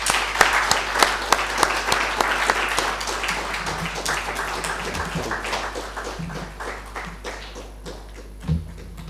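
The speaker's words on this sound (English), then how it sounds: "Let's give him a round of applause." An audience applauds a chief guest arriving at the podium to deliver a keynote address at a school of computing and engineering launch, sustained hall clapping with sharp individual claps that slowly thins out over about nine seconds.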